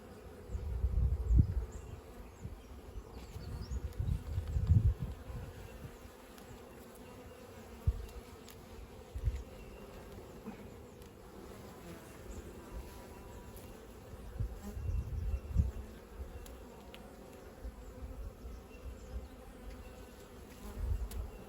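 Honey bees swarm around an open hive during a late-season inspection, their dense buzzing steady throughout with louder swells as individual bees pass close, no voices present.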